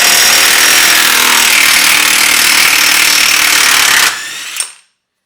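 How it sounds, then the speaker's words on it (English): An Ingersoll Rand 20-volt cordless impact wrench hammers loudly and continuously at close range for about four seconds, then cuts off abruptly, followed by a brief metallic clunk and fading rattle. "This 20 volt Ingersoll Rand cordless impact gets the job done."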